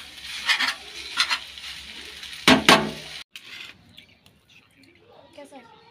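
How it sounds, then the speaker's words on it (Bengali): Food sizzles in a pan as a spoon stirs and scrapes in bursts, close and fairly loud, then the cooking noise drops away and faint talk follows. "লেফট হ্যান্ড দিয়ে রান্না করছে, দেখো সবাই।"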